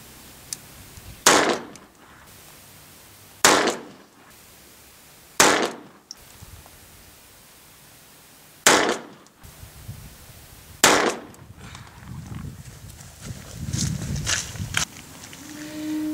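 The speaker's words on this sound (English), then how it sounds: "first up is going to be the Walther P22 shooting the 36 grain CCI mini mags" Walther P22 pistol firing 36 grain CCI Mini Mag .22 rounds outdoors: five sharp, loud cracks spaced a second or two apart, each with a short decay, followed by some quieter rustling and handling noise.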